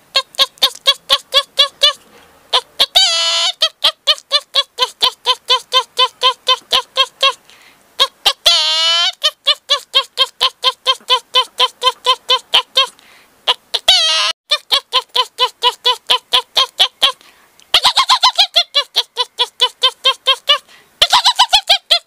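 A person mimics a mother hen clucking to her chicks, giving loud, rhythmic runs of short voiced clucks broken by brief pauses and a few higher, drawn-out calls.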